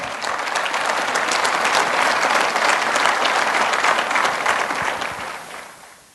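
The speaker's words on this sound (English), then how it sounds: "It's okay to applaud." A crowd at a city State of the City awards event claps steadily, loud and sustained, then the applause tapers off and fades out near the end.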